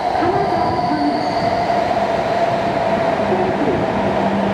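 The Hakutaka 559 train runs on steadily, with a continuous loud rumble of wheels on rails and faint squealing tones drifting over the top, heard from on board with no talking.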